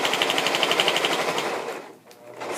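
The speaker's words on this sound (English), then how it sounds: "And I have my machine ready here. So there you go, and I'm back stitching." A sewing machine back stitching fabric for a clutch purse, a fast rapid needle chatter close by that runs steadily, then slows and briefly stops before starting again.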